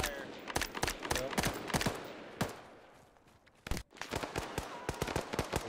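Rapid gunfire in the military video game ARMA 3, a ragged stream of sharp cracks and bursts, close and loud, easing briefly before resuming in quick repeated shots, with no voices over them.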